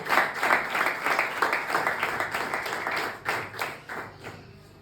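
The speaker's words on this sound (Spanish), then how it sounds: "Fuerte el aplauso para el Señor." A church congregation claps together during a sermon, a dense wash of many hands rising and fading over several seconds, moderately near and steady before thinning out.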